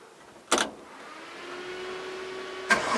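An old car with a 202 engine is being started: a sharp click, then a rising whine that settles into a steady low hum, and another click near the end.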